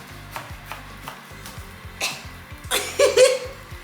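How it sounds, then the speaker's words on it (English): A knife, not the ideal one for the job, chops through food on a board in a home kitchen, giving a few soft, irregular cuts and thumps with small clatters between them. "I know this is not the right knife to cut it with, but it works."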